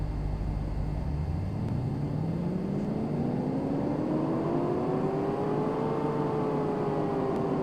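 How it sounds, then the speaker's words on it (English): A Ford GT engine in the game Car Mechanic Simulator revs up steadily on a dyno, its droning pitch climbing smoothly from a low rumble to a high, sustained whine, loud and continuous with no talking. "Go ahead and do the dyno."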